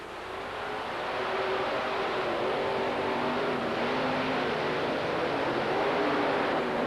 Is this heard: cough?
no